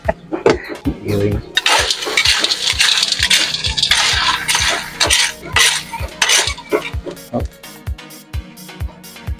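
A utensil stirs and scrapes through snails cooked in coconut milk in a metal pot, giving loud, close, repeated clinks and clatters of shells and spoon against the pot in a steady rhythm.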